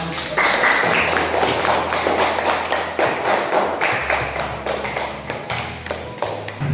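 A group of children in a classroom claps hands in a quick, uneven patter of many overlapping claps, close and lively, lasting several seconds.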